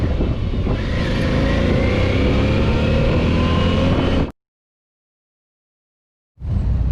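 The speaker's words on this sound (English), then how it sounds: "just leaving on the old Vstrom" An old Suzuki V-Strom motorcycle rides along with a loud, steady engine drone and wind rush. The sound cuts out abruptly to silence and then resumes, with no talking.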